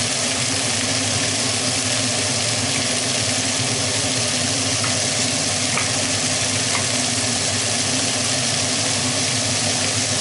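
Garlic with red and green peppers sizzling steadily in a pan, a dense continuous hiss and crackle heard close and alone with no talking.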